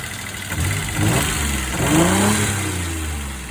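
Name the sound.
1992 Toyota 4Runner engine idling low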